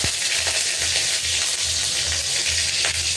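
Green chillies and nigella seeds fry in mustard oil in a kadai, giving a loud, steady, close sizzle with soft crackles and faint stirring throughout.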